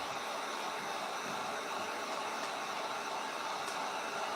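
Hair dryer blowing on a painted mason jar scarecrow craft, a steady, even whoosh of air that holds constant throughout, moderately faint and with no voices over it.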